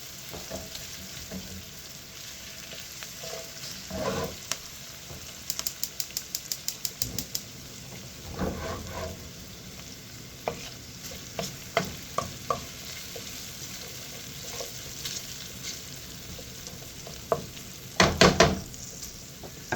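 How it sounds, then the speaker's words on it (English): Pancetta frying in a pan for bucatini amatriciana, giving a steady low sizzle with scattered crackles, stirring clatters and a louder burst of spatter near the end, with no talking. "Now we want our pancetta to get cooked, but we don't want it killed."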